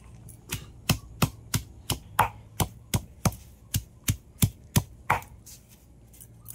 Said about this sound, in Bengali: আর এই শিলে আমি থেতো করে নেবো।